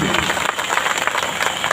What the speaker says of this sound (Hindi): जोरदार ताली अपने लिए